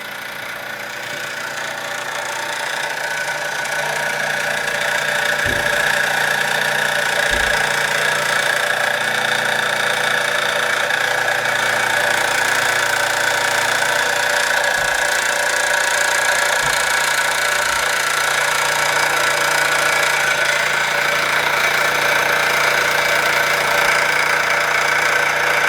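A 1949 Mamod Minor 1 model steam engine, Camden Street version, runs steadily after fettling, giving a continuous even hiss and mechanical whir with a few faint knocks, close and fairly loud, no voices.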